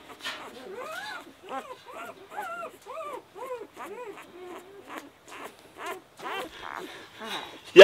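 Four-day-old Black Sea shepherd puppies whimper and squeal in a steady run of short, rising cries, close and fairly loud, with a sharp knock at the end.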